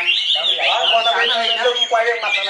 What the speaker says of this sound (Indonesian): betapa sadis dan kasihannya burung kacer ini.